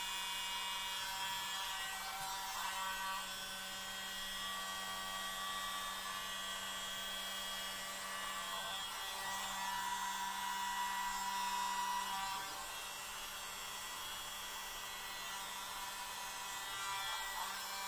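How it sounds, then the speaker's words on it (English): A small electric mini blower whirs in a steady, even drone with a thin high whine throughout as it pushes acrylic pour paint around, quiet and unbroken, with no talking. "I've got the little mini blower, so we'll see if this will create enough wind power to blow this paint around"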